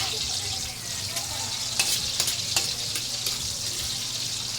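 Onion sautéing in a pan as the base for pancit makes a continuous, close sizzle, with a few sharp scrapes and clicks of the spatula scattered through it.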